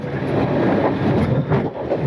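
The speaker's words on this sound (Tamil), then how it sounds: "ட்ரெயினில் போகும்போது ஆடிக்கிட்டே போகுது" Train rolling along a rail track through countryside in Sri Lanka, a steady broadband rumble with faint wheel clatter and wind, continuous and close, no voices.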